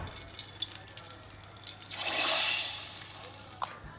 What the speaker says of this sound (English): got to get that pan drippings in there too